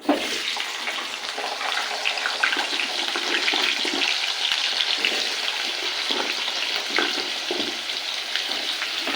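Potatoes frying in hot oil with cumin seeds, a dense, continuous crackling sizzle heard up close after a brief clatter at the start, holding an even loudness throughout with no voices.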